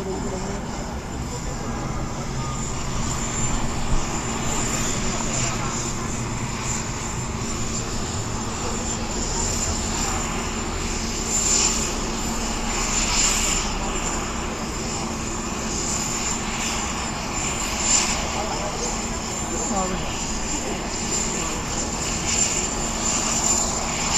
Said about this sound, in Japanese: プロペラが回り始めました。